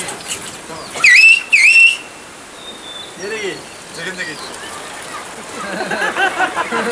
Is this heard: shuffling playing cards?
no